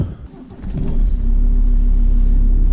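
A 1997 Audi A6 C4 TDI Quattro estate diesel cranks briefly and catches, then settles into a steady, loud, low idle rumble close by.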